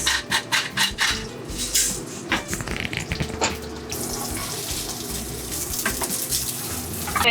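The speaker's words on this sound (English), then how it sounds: "I'm just going to put a little bit of water in and season it as well" Water poured into a cooking pan of pasta being prepared aboard a sailing boat, a steady splashing pour with gurgling bursts that continues for several seconds, close and moderately loud.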